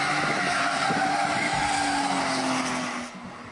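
Modified cars do donuts on a street at night, with loud, sustained tire squeal and skidding over roaring engines that fades slightly at the end.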